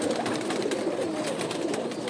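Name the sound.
pigeon being shown by hand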